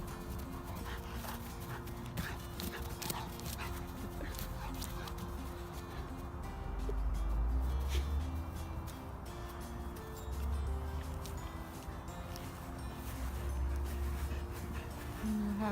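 A dog whimpers and pants nearby over low, steady background noise, with occasional soft vocal sounds spread across the stretch.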